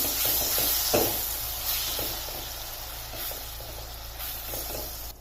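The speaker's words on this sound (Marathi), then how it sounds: "त्याच कढईमध्ये टाकते मी दोन चम्मच तूप लगेच त्यामध्ये आता ही आपण स्मॅश केलेली केळी घालायची केळींना थोडंसं परतवून घेऊ" Mashed bananas sautéing in ghee in a kadhai, a soft steady sizzle with faint scraping stirs, close and alone with no talk.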